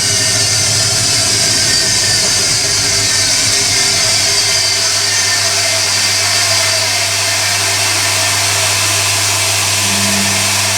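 Hoover Electronic A3172 washing machine moving into its final rinse on a cottons 40 cycle, a steady close motor hum and drum whir running continuously without voices.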